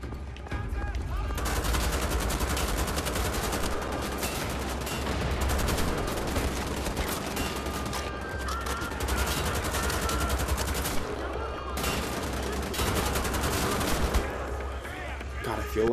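A big gun firing in the shooter Wolfenstein: The Old Blood, long loud bursts of rapid automatic fire in several volleys separated by short gaps, with a voice talking over the shooting.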